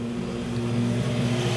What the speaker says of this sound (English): Now here comes the motorcycle.